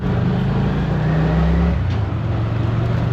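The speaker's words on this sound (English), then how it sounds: "We're at a tuk-tuk," A tuk-tuk auto rickshaw engine in Panajachel, Guatemala runs with a steady, loud low drone and a slight rise in pitch, close by, with no voices.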